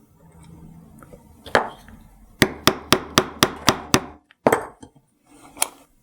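A hammer strikes an awl in a quick run of about eight sharp metallic taps, punching a hole through a metal hardware-store knockout seal for a steampunk bracelet, with a few scattered knocks before and after.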